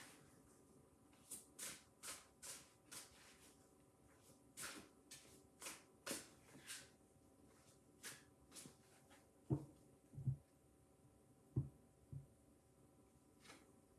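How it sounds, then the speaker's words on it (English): Tarot cards being shuffled by hand, a series of quiet, crisp riffling and tapping bursts at an uneven rhythm, close and faint with no talking. "You saw me shuffling those cards."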